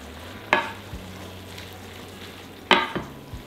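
A vegan rice noodle stir-fry sizzles softly in a hot pan while a utensil scrapes and knocks against it twice, with a low hum underneath.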